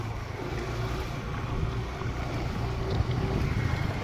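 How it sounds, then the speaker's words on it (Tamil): A scooter carrying riders along a road in hot sun, its low engine hum steady beneath heavy buffeting wind noise on the microphone, continuous and fairly close. "நாங்கள் ஸ்கூட்டிலாம் போயிட்டுருக்கோம்"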